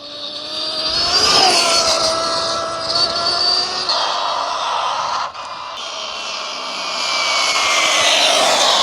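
A $2500 RC NASCAR car running flat out while being checked for a fault, its high-pitched motor whining loud and steady, rising and falling slightly in pitch with no pause.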